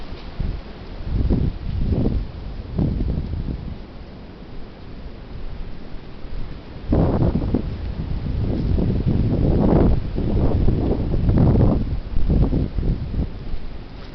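Heavy wind gusts along the Spartan forest trail, a rushing roar with rustling and microphone buffeting that swells and fades in waves, no voices.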